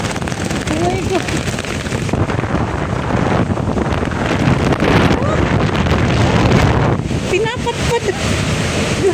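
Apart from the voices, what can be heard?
strong wind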